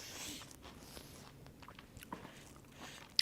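Biting and chewing into crispy fried loukoumades, Cypriot honey-syrup doughnuts, with soft close crunches and mouth sounds scattered through the quiet and a sharper click near the end.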